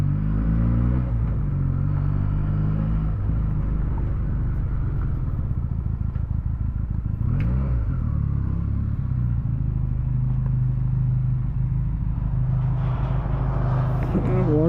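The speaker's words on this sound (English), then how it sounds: "You just can buy this bike only for the sound," A Benelli TNT 300 motorcycle on the road around Bangalore, its engine droning steadily and loudly throughout, with rising and falling revs and some wind and road noise.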